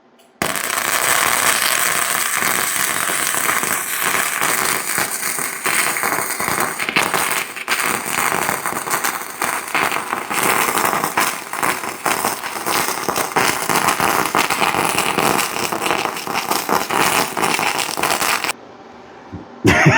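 An Arccaptain 205MP welder used by a first-time welder gives a loud, steady crackling sizzle that runs almost nonstop for about eighteen seconds before cutting off, with a brief burst just at the end.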